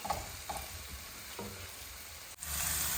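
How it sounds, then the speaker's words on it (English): Boiled potatoes frying in a pan, a steady close hiss of sizzling oil with a few soft knocks and scrapes, growing louder and brighter at the very end. "Now I'm just gonna fry them up."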